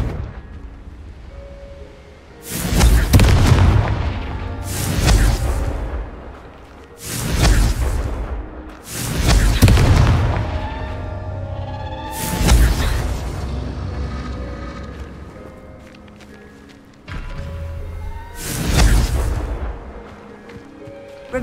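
Repeated Confringo fire spell blasts in the video game Hogwarts Legacy: six heavy booming explosions spaced a few seconds apart, each with a whooshing burst and rumbling decay, loud and close, without speech.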